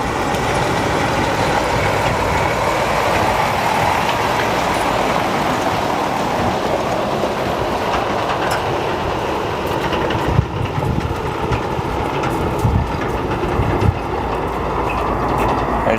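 An Air Wisconsin CRJ200 in retro livery at Chicago O'Hare, its jet engines spooling up in a steady, dense broadband roar that holds near-constant loudness throughout, with no voices.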